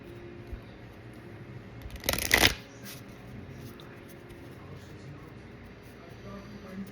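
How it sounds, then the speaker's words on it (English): A deck of reading cards is shuffled indoors in one short burst of riffling and flicking, close and crisp, surrounded by quiet room tone and faint voices. "We're going to shuffle."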